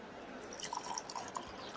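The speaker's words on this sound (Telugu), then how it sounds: "గోరువెచ్చని నీళ్ళు వేస్తూ" Lukewarm water is poured onto ground neem leaves, giving faint, close dripping and trickling with a few small splashes, quiet and alone.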